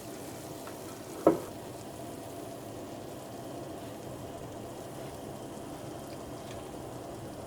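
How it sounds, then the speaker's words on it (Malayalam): Sweet mutta appam frying in hot oil, a soft steady sizzle with one sharp pop near the start, faint and close. "ഇനി ബാക്കിയുള്ളതും ഇതേപോലെ തന്നെ വറുത്തിട്ടെടുക്കുക."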